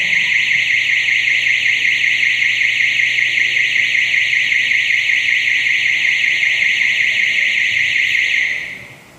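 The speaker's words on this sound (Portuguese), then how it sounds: "É bom que a gente tem esse alarme, né?" Electronic alarm blaring during a church prayer and Bible study service, a loud, steady high-pitched pulsing tone that holds for about eight seconds before cutting off abruptly near the end.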